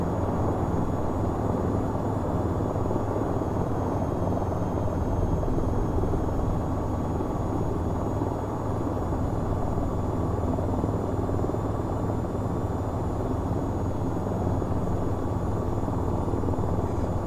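An AH-94 attack helicopter in flight in the VTOL VR game, its rotor and engine drone steady and loud throughout, with a faint high whine on top and no talk.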